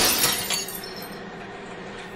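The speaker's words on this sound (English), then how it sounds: "the intimidatingly named glass breaker screen busts up the glass that falls below the container line" Glass crashes and shatters in a glass breaker screen at a recycling facility, a loud burst of crunching and clinking that settles into a sustained rattling hiss of broken fragments.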